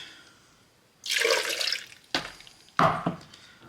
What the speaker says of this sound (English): So first of all I'm going to go with putting the ice in, and then I'm pouring the milk,